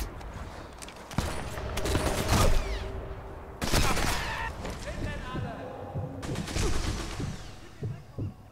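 Sniper rifle gunfire in the video game Sniper Elite 4, a few sharp loud cracks with echoing tails spread across the clip, mixed with game effects and voices talking over it.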